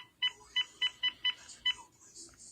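Phone keypad dialing tones, six or seven short evenly spaced beeps tapped in quick succession, moderately loud and close, followed by a brief fainter electronic chirp.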